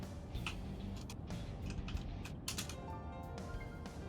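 Computer keyboard typing heard faintly, as if through someone's open microphone during an online call, with scattered irregular key clicks over a low background hiss.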